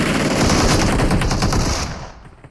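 Automatic gunfire in the video game PUBG Mobile, a dense, loud burst of rapid shots lasting about two seconds before cutting off and fading.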